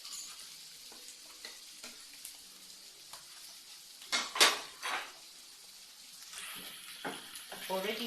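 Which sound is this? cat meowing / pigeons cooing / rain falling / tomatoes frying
tomatoes frying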